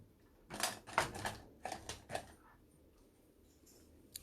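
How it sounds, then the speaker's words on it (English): A rubber eraser rubs out a pencil mark on paper in a few quick scrubbing bursts, close and fairly soft, then stops. "I'm just going to rub out that mark there so I don't confuse you"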